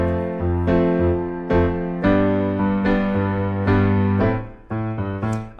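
Piano playing a song with an active right-hand eighth-note rhythm: bright repeated chords struck in a steady, driving pattern over held bass notes, played solo with no talking.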